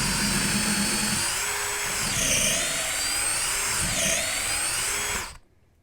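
A Milwaukee Shockwave 1/2 inch drill bit bores steadily through lumber with a loud, continuous high whine that shifts slightly in pitch under load, then cuts off abruptly near the end.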